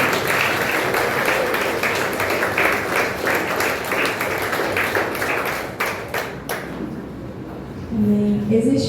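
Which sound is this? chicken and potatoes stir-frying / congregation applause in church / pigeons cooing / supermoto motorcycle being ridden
congregation applause in church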